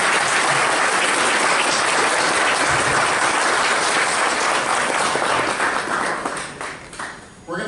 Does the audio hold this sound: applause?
yes